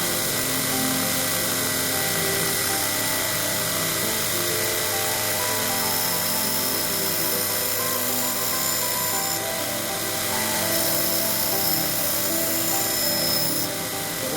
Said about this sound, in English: We'll put an edge on it with the gator belt